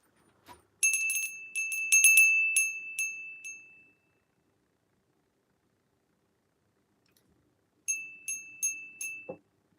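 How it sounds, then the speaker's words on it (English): A small hand bell rung in a quiet room, two bursts of bright metallic ringing with several quick strikes each, separated by a long silence, clear and close. "Should we ring my bell? I feel drawn to ring my bell."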